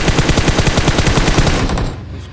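In PUBG, automatic gunfire shoots down a Dacia car: a rapid, loud burst of a dozen or so close shots, then a short fading tail.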